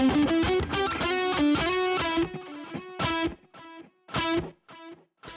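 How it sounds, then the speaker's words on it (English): An electric guitar is played through a Polychrome DSP Nunchuck set to a plain mono delay with no reverb, and distinct notes and chords ring out with repeating echoes trailing each phrase between pauses. "There'll only just be delay on there."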